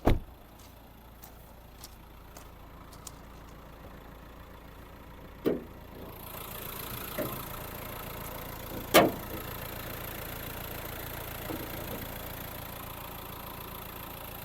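A 2018 Renault Kadjar Intens engine idles steadily at low volume under the open hood, with a few sharp clicks and knocks standing out over the even hum.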